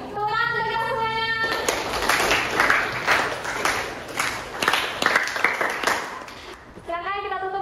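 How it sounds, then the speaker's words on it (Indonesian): Classroom applause from junior high students at the close of a lesson, a dense spell of clapping for about five seconds between stretches of an adult speaking, without voices laid over it. "Tepuk tangan untuk kita semuanya."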